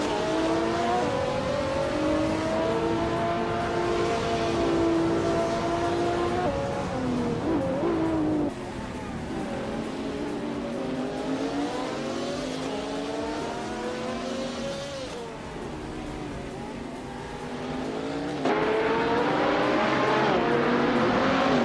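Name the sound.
race cars speeding and tires squealing in a racing video game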